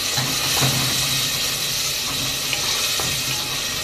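Diced tomatoes sizzle in a pan over high heat, a loud, steady frying hiss with faint scrapes of stirring now and then, no voice present.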